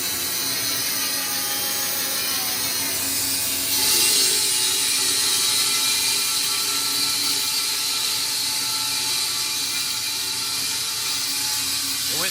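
A Wood-Mizer industrial sawmill's blade cuts through a poplar log, giving a steady, loud mechanical whir with a bright high-pitched hiss that swells briefly partway through, no talking.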